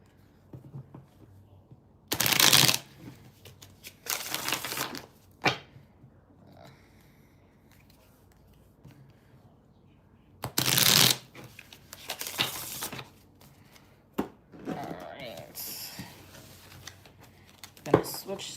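Tarot cards shuffled in several loud bursts of riffling, each a second or so long, spread across the stretch with quiet gaps and soft movement between them.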